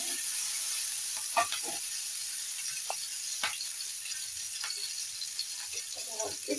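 Small pieces of chopped green chilli fry with cumin in hot oil, a bright continuous sizzle punctuated by spatula scrapes and taps against the pan.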